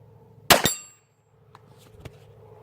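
One sharp, loud report from a Makarov 9x18mm pistol at a shooting range, with a brief echoing tail, followed by faint small clicks and a soft metallic tap.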